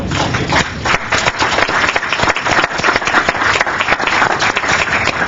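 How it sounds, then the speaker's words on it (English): A council meeting audience applauds in the chamber, a sustained, fairly loud patter of many hands clapping with irregular sharp claps throughout. "we applaud you"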